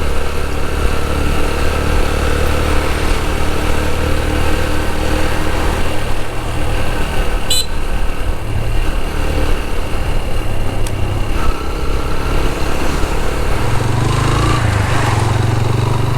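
Steady, loud engine drone of a vehicle driving along Mangla Dam in Mirpur, a continuous hum with a brief sharp click partway through and no talking.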